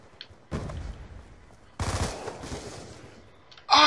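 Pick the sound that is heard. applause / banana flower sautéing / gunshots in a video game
gunshots in a video game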